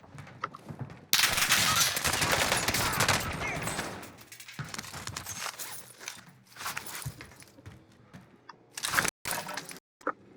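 Automatic gunfire in Call of Duty Warzone on the Caldera map, a loud sustained burst of rapid shots followed by scattered single reports and footsteps, with a few sharp cracks near the end.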